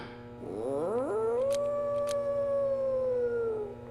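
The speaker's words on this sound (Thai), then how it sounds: "นี่หมามันหอน มันหอน มันหอน มันหอน" A dog howls in one long, loud, drawn-out call that rises at the start and then holds steady before fading, heard alone with no talking over it.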